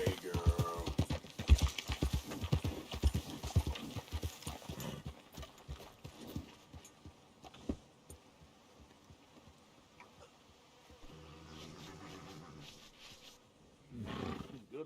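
Horse hooves clip-clop in Red Dead Redemption 2, a dense run of close, loud hoofbeats early on that thins into sparser, fainter steps, with brief talk and a louder burst near the end.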